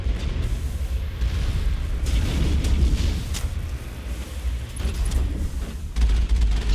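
Mako tank cannon fire and explosions in the video game Mass Effect, sustained deep booming blasts with sharp bursts rolling over each other, loud and continuous throughout.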